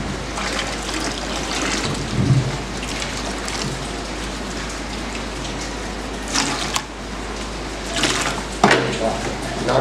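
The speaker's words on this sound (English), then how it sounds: "This cold water, you drop it." Cold water poured for batik dyeing makes a continuous splashing, trickling rush close by, with a few louder bursts along the way.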